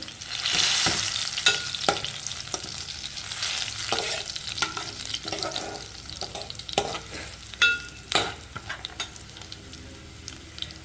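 Green chillies and onions frying in hot tempering oil for a spicy ivy gourd onion pakodi fry, with a steady sizzle broken by repeated scraping stirs of a spoon against the pan.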